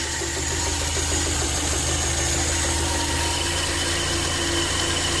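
A car engine fed by a factory DAAZ carburetor idles at a steady, even speed, a loud continuous close hum with a faint mechanical ticking and no voices.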